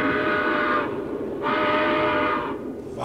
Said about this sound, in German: Im Zug von Moskau nach Nizhny